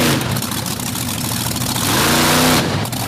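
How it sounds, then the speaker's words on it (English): A drag race car with a three-speed Turbo 400 transmission and a small engine revs hard through its gears, a loud, close, continuous roar with rising pitch and shifts, at an outdoor racing event. "Going through the gears on that 3-speed turbo 400 transmission"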